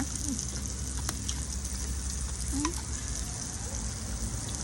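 Pork grilling on a hot Thai moo kratha grill pan, a constant close sizzle with scattered pops and crackles, and faint talking underneath.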